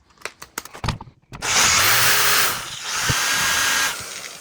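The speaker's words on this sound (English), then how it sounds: "I think it's time for me to get a new drill bit" Power drill boring a hole with an 11/64 bit while building a shoulder lamp, preceded by a few clicks and taps, then a loud close whine in two sustained bursts with a brief dip between.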